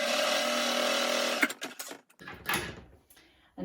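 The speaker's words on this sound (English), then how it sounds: "I'm just going to top stitch across the bottom here, as close as you can really to the end of that seam" Sewing machine top stitching across the bottom of a fabric button pocket on a fidget quilt, a steady close whirring run for about a second and a half, then short stop-start bursts and pauses as the stitching ends.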